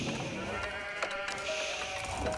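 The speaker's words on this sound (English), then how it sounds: "what a huge amount of sheep here." Sheep bleating in a real-time strategy game, several short, moderately loud bleats over a busy background of game ambience and faint clicks, no talk.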